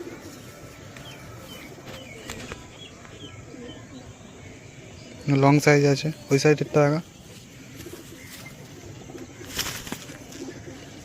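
Several pigeons coo in a short burst of repeated throaty calls near the middle, with someone talking intermittently around them.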